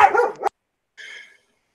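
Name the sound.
dogs barking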